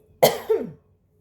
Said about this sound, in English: and then they made me cough